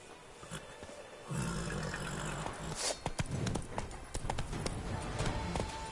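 A ridden horse's hooves clip-clop at a steady trotting rhythm across an equestrian course, close and clear, with a brief low snort or roar partway through.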